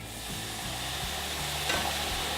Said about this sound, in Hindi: अब मैं इसमें थोड़ा सा वाटर डालूंगा